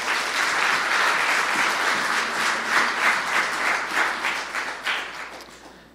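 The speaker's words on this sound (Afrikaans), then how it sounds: "Kan ons vir Jesus 'n hande klap gee?" A church congregation claps and applauds for Jesus during a service, a dense burst of many hands that holds steady and then tapers off near the end, with no talking.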